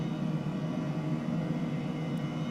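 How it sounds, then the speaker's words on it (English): An H135 helicopter hover taxiing in Microsoft Flight Simulator gives a steady, even drone of engine and rotor noise, continuous and moderately loud with no breaks. "It's an interesting thing, hover taxiing a helicopter."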